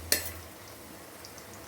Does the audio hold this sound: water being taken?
no